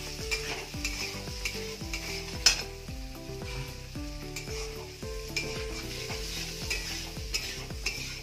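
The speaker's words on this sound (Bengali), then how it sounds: "নুন হলুদ দিয়ে 2-1 মিনিট ভালো করে নেড়ে নিতে হবে।" Stir-frying with salt and turmeric in a pan for a spinach dish with boiled potatoes, steady low sizzle under a regular rhythm of spatula strokes repeating about twice a second, no voices.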